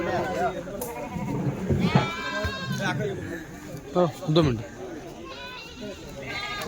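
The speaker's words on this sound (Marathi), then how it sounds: "कोकर पण आलेले आहेत मेंढीचे" Rajasthani goats and sheep with young lambs bleat in short bursts amid a busy livestock market, overlapping with steady chatter from several people nearby.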